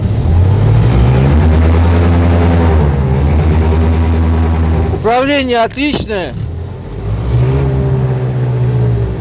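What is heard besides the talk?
diesel airboat Nerpa 460KD engine running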